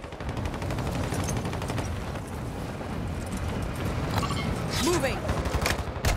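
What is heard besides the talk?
gunfire in a video game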